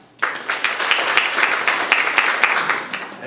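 Applause starts abruptly from a conference audience attending a social media talk, with distinct claps standing out within a steady, moderately loud round that continues throughout.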